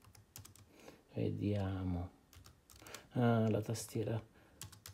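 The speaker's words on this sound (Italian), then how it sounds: "la tastiera QWERTZ maledetta" Typing on a QWERTZ laptop keyboard, quiet clicking keystrokes scattered between stretches of a person speaking.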